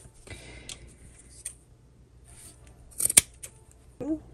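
Scissors cut fabric in half for a handmade wallet: a few scattered soft snips lead to a sharp, louder cluster of cutting snaps near the end, all close and in a quiet room.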